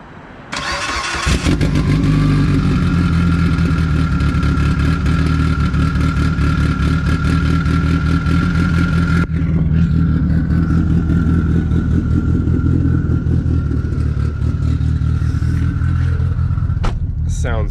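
A Mitsubishi Evo 8 with a new engine cranks and fires up, then settles into a loud, steady, close idle that runs on, briefly dipping in tone partway through.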